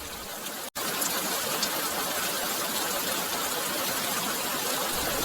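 Steady night rain near a small station, a dense, even hiss that runs on without let-up after a brief dropout at the start, with no voices.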